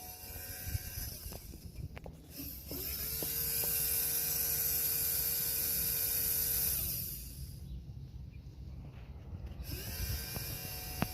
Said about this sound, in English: You can hear the pump on.